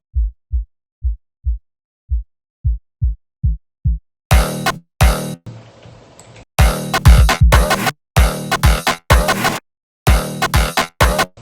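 A shortened EDM kick drum in an FL Studio drum fill hits in quick, dry, punchy thumps that speed up, then give way to dense, loud full-band bursts in a choppy rhythm.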